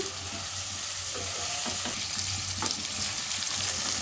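Eggplant pieces fry in a pan over high flame, giving a dense close sizzle with a few soft stirring scrapes.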